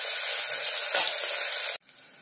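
Onions with ginger and garlic frying in a pan for mutton masala dal, a loud steady sizzle that cuts off abruptly near the end.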